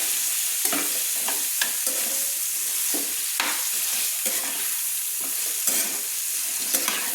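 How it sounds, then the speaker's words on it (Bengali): Potatoes sizzle and fry in oil with turmeric and salt, a steady broadband crackle broken by repeated scraping stirs of a spatula in the pan, close and continuous with no talk. "দিয়ে ভালো করে আমি একটু আলুগুলো নেড়ে নিচ্ছি"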